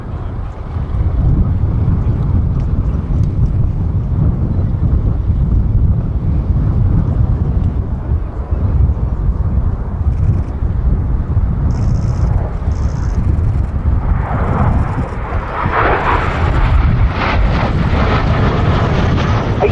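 A Canadair F-86 Sabre jet engine roars at the Duxford Battle of Britain air show, a loud, sustained low rumble under heavy wind buffeting on the microphone, with a rising hiss as the jet draws nearer toward the end.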